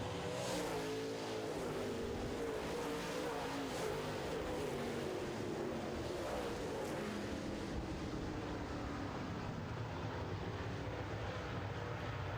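Late model race cars racing side by side on an oval track, a dense, continuous engine roar from a pack of cars at full throttle, heard from a distance with no breaks.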